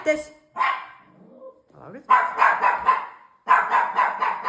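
A dog barks loudly and close by in rapid bursts of sharp, repeated barks with short pauses between them, and a person's voice is heard briefly in between.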